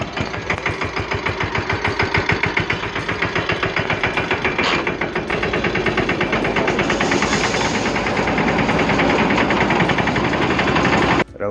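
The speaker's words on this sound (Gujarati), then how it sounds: "બપોર પછી તો કલ્પેશભાઈ આવી ગયા મિની ટ્રેક્ટર લઈને કે હાલો ઘઉં સાફ કરી નાખી." A wheat thresher driven by a mini tractor cleans grain on a farm, giving a loud, steady, rapid mechanical clatter and engine drone that runs throughout without pause.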